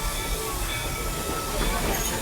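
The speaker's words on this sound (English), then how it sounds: "please remain completely seated till the train has come to a full and complete stop" A Disney park train pulls into Fantasyland Station with a loud, continuous rumble of wheels on rails and faint squeals, while a recorded announcement plays over it.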